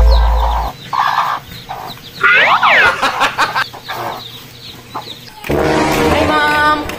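A chicken clucks and squawks in short bursts close by, with other farmyard noise and a brief louder commotion toward the end.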